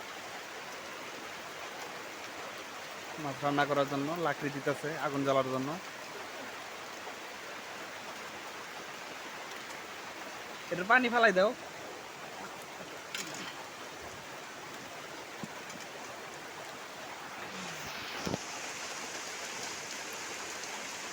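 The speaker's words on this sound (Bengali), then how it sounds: "বৃষ্টির মধ্যে অনেক কষ্ট করে রান্না করতে হইতেছে আমাদের" Steady rain pours down outdoors in the rainy season while fish is cooked in a wok over a wood fire. The hiss is even and continuous, with a few short bursts of voices talking over it.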